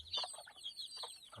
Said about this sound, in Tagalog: Tapos nandito yung native na manok.